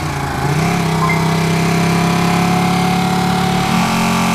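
A 2016 Ducati 959 Panigale engine runs steadily during a ride, a loud close droning note that rises slightly then holds evenly, no talk.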